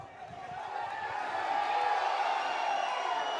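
A football stadium crowd at a Cape Verde versus Liberia World Cup qualifier swells in a steady, broad roar of disapproval, distant and continuous, with a commentator's voice faintly underneath.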